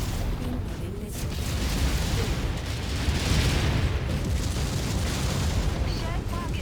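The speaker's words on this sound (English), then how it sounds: "Incoming missile." Missile explosions in the MechWarrior 5 campaign, a sustained rumbling roar of blasts and impacts filling the battlefield, with a radio-style voice briefly speaking over it.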